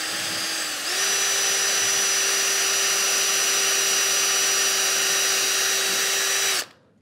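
A power drill drives screws into wood while a workbench drawer is built. Its motor whines steadily for about six seconds, climbing slightly in pitch early on, then cuts off abruptly. The sound is close, with no talking.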